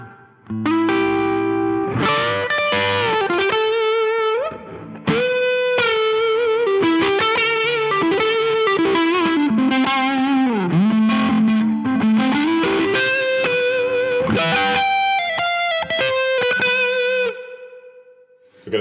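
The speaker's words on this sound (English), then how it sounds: "let's do what you meant to do with the Tube Screamer and kind of run it into a slightly driven amp." Electric guitar through a Tube Screamer pedal into a slightly driven REVV D20 amp played through a real speaker, with overdriven melodic lines, sustained bends and chords that ring close and loud for the whole stretch with no talking.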